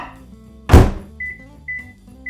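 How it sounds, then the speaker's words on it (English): A kitchen microwave oven's door shuts with a single loud thunk, followed by a short series of evenly spaced electronic beeps from its keypad, close and clear with no talking. "To the microwave, you know what time it is."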